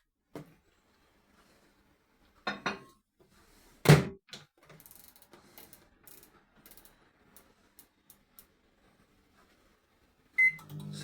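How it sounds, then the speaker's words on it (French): A microwave oven heating Nissin soba instant noodles: a few clicks and a sharp clunk as the door and dial are worked, followed by quiet mechanical ticking, then the low hum of the oven starting up near the end. "3 minutes au micro-ondes."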